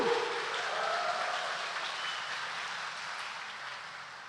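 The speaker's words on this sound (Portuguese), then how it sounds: "Uma salva de palmas para Madalena, minha gente" A church congregation applauds Saint Mary Magdalene during an Easter Sunday Mass, a soft, even wash of clapping that slowly fades.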